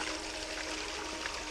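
Water runs steadily through a rock-filtering setup with a spinner, a continuous close rushing and trickling wash with no break and no voices.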